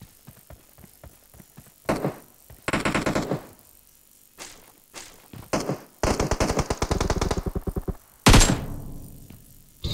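Gunfire in the mobile battle royale game PUBG Mobile: loud bursts of rapid automatic fire and single heavy shots, several fast volleys broken by short pauses, close and punchy.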